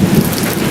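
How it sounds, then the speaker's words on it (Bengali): Heavy rain pours down loudly during a thunderstorm on a Sundarbans trip, a dense, close wash with a low rumble beneath it. The burst is very short. "বৃষ্টি মামা কিন্তু হাজির"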